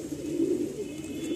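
A breeding pair of pigeons, male and female, gives soft low cooing, a continuous throaty murmur close by and fairly faint, with no talking.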